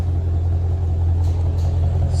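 A 2020 Shelby GT500 engine on a dyno run makes a loud, steady low rumble that holds constant throughout, with no talk over it.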